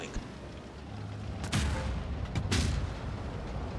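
Tank cannon fire in World of Tanks Blitz, two sharp booming shots about a second apart, loud and close over a low rumbling battlefield background.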